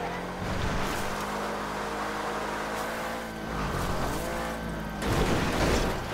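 An Annis Helion off-road car in GTA 5 drives along with a continuous engine rumble that swells and shifts pitch, rough and moderately loud, with brief surges near the end.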